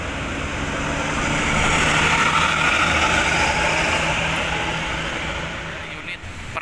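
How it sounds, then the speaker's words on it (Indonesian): A Hino RK bus on a climbing, winding road passes nearby, its engine swelling into a broad, steady roar that builds and then slowly fades. "Wah, Hino RK suaranya khas banget ya."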